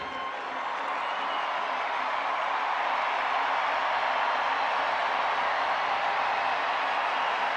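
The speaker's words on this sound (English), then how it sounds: "There's still many left in these seats making noise here in this 8th inning." Sellout baseball stadium crowd of over 43,000 making noise in the 8th inning of a White Sox at Padres game, a broad sustained roar with scattered whoops and claps, distant and steady.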